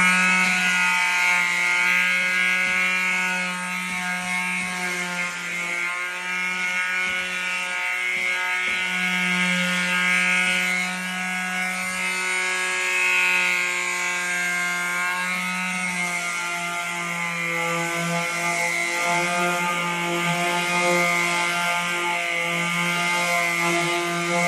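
An electric sander runs steadily along the edges of a chalk-painted furniture piece, a loud, continuous whirring drone with a buzzing hum that shifts slightly in pitch as it moves, close by and without talk.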